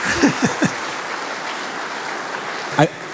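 A convention audience bursts into steady, dense applause that carries on throughout, with a few brief voices and laughs cutting through near the start and end.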